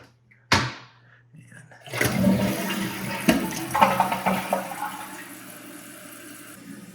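A sharp click, then water rushes and gurgles as a toilet tank refills water into the bowl, the flow loud at first and gradually settling into a softer trickle.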